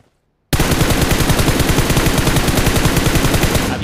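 A loud, sustained burst of rapid automatic gunfire from a spray in the video game BGMI starts abruptly after brief silence and continues steadily at close range until the clip ends.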